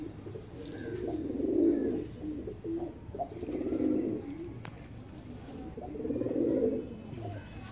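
A perazi pigeon at a rooftop loft coos in three long, swelling bouts spaced a couple of seconds apart, close and clear over a faint background.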